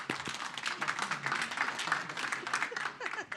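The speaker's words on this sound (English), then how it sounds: "Let's give the recipients a round of applause." Applause at a city council meeting as recipients are honored: a steady wash of many hands clapping for a few seconds at moderate room distance, with voices mixed in.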